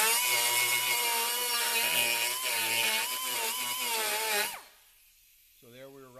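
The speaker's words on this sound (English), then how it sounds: "we're going to deburr it, we're going to make some radiuses and some corners, and then we're going to put a chamfer on it, and we use an air tool" An air tool deburrs and chamfers the edges of a Pro-lite running board for an Arctic Cat Proclimb. It gives a loud, steady, high whine for about four seconds, then cuts off abruptly, followed by brief speech.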